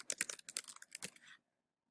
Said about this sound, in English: I would start typing in my email address